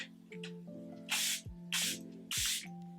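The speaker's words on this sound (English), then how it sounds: "now I am going to use the Charlotte Tilbury setting spray" Three quick hissing sprays from a Charlotte Tilbury makeup setting spray pump bottle, evenly spaced, close up, over a faint background hum.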